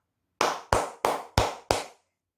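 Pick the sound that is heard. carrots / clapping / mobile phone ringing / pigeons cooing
clapping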